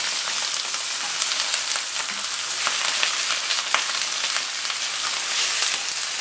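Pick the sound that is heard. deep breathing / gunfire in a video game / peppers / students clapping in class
peppers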